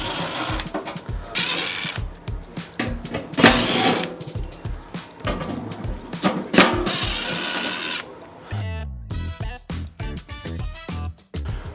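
A power drill backs screws out of an HVAC blower motor housing. Close, loud, whirring bursts of varying length are broken by short pauses and end in a choppier stretch of stop-start pulses.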